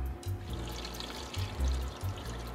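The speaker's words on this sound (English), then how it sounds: "We need some water." Water is poured in a home kitchen during cassoulet cooking, a soft, quiet burbling stream with small surges and gurgles over a low hum, close by.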